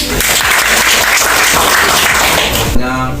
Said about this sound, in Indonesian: Tepuk tangan dulu untuk ibu-ibu.